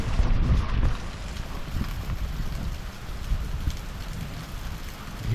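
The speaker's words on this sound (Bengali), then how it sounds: "অনেক বৃষ্টি পড়ছে।" Heavy rain falls outside during a Durga Puja pandal visit, a dense steady wash of noise with low rumbling wind buffeting the microphone at the start.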